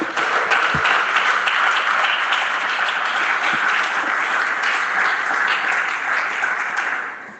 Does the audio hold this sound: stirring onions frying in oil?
no